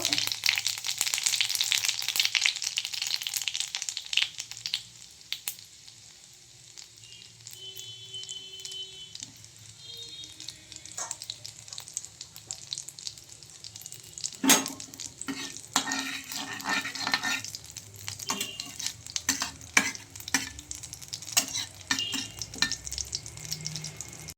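Cumin seeds sizzle in hot oil in a pan, a close, fairly loud hiss that dips briefly, then returns with scattered sharp crackles and utensil clicks.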